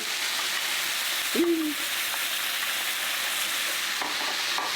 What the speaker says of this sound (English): I'm gonna take all the ones I already cooked, dump them all back in with all that juice, add my mushrooms in.